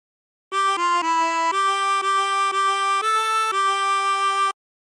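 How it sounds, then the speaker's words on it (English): A 24-hole tremolo harmonica plays the melody of Yellow Rose of Texas: a steady, close run of about nine sustained, wavering reed notes, each held briefly before stepping to the next, with no talking. "practice this until you end up with something that sounds like this"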